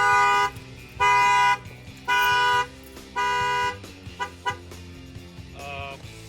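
A Ford Transit 350 van's Excalibur alarm arming: four loud, harmonic horn-like chirps in steady succession, then a few shorter blips and a rising tone, over a low engine-like hum.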